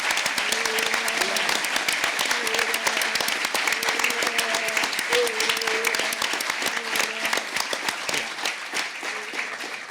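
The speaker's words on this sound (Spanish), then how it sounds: "quisiera nuevamente pedir un aplauso por él" Audience applause at a book presentation in a national library hall, steady dense clapping lasting about ten seconds, with faint voices underneath.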